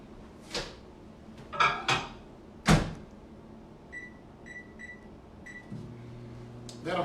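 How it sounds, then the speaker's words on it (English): Milk and butter go into a microwave oven: a few cupboard-like clunks and a door thud, then keypad beeps, and the oven's low hum starts near the end. "let's put this in the microwave for 1 minute."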